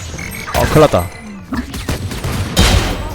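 A thrown bomb exploding in a video game: a cluster of loud, sharp blasts in rapid bursts, with voices mixed in around them.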